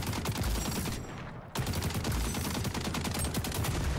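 Gunfire in XDefiant from a player crouching while shooting: a steady rapid stream of close automatic shots, a brief drop in level partway through, then the fire resumes just as loud.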